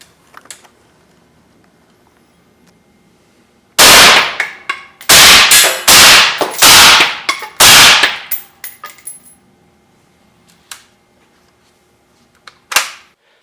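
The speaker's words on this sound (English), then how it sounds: "now we're going to do 5 rounds of M855 penetrators out of a suppressed Tavor" A suppressed Tavor rifle fires five M855 penetrator rounds at a ballistic armor plate, making a quick string of loud, sharp cracks over about four seconds in an otherwise quiet setting, followed by fainter clinks and one later knock.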